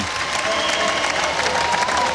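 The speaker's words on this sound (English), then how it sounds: "you heard the crowd in unison applauding not just the champion Hawaii team" A basketball crowd applauding the Hawaii team after a Big West championship game, with loud, dense, sustained clapping throughout.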